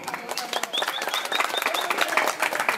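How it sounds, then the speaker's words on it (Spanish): A crowd at a motorcycle club's anniversary event in Nazca claps to welcome a speaker, with scattered individual hand claps and a few whistle-like cheers rising over the sustained applause. "Adelante por fuerzas, palmas para Willy Portillo."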